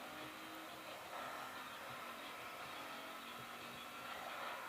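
Racing car engine in Need for Speed Most Wanted, a steady drone of acceleration and road noise held throughout with small pitch shifts, no voices.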